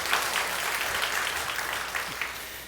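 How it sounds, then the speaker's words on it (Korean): Church congregation applauding at a Sunday service, a steady dense wash of clapping held throughout at moderate level with no break. "다시 한번 박수로 할렐루야."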